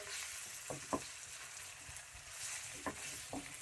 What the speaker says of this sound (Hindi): इसको साथ ही हम इसके साथ ही भुनेंगे, कीमे के साथ ही इस तरीके से